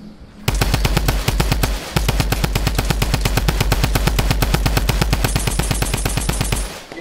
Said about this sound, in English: You're shooting me down, bro.